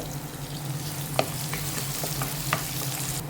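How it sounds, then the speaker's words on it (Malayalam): A small piece of cinnamon, a few cloves and a few cardamom pods sizzle in hot oil as the base for a beef curry, making a steady close frying crackle broken by a couple of light taps. "ഇതിലേക്ക് ഞാനൊരു ചെറിയ കഷ്ണം പട്ടയും ഒരു രണ്ട് മൂന്ന് ഗ്രാമ്പു രണ്ട് മൂന്ന് ഏലക്കോ ഇട്ട് കൊടുക്കുകയാണ്"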